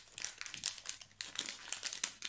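A small plastic pouch of wedding-themed stickers being handled up close, giving continuous crisp crinkling and rustling for a couple of seconds, quiet and alone with no talking.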